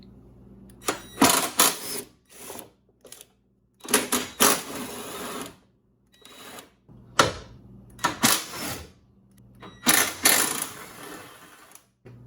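Bumper bolts being loosened on a 2000-2006 Chevy Tahoe Z71, heard as repeated short bursts of a power tool or ratchet, close and loud, separated by pauses.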